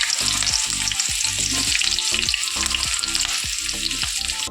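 Onion and cumin sizzling in hot oil in a pan, with a steady loud fry hiss and repeated stirring scrapes at a regular rhythm; no voices.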